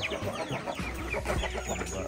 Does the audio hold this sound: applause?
no